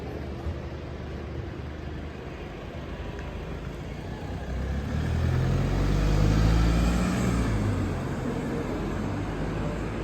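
A 2021 Mercedes-Benz C220d W206 C-Class diesel sedan drives through the city, its low engine and road rumble steady throughout, with a gentle swell around the middle as it picks up pace.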